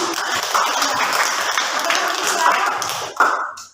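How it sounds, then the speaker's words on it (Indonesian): A classroom of students claps for group 6 after a good answer, a brisk, busy burst of hand claps that runs steadily for a few seconds, then cuts off with a last sharp clap or two. "Tepuk tangan untuk kelompok 6."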